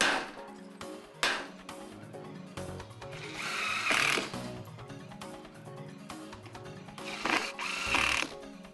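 Screws being driven through Edco steel roofing metal during a roof installation, a power driver whirring in repeated bursts with sharp metallic clicks and knocks, close and fairly loud, no voices.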